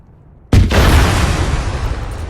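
An AT grenade detonates in Arma 3, a sudden loud close blast after brief quiet, followed by a long rumbling decay that stays heavy to the end.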